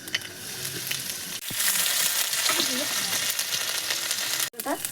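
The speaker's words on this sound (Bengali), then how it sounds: "সাদা তেল দিলাম তেল গরম হয়েছে কালি জিরা দিলাম" Nigella seeds tossed into hot white oil crackle and sizzle in a steady, close frying hiss, broken by a couple of brief stirring clanks.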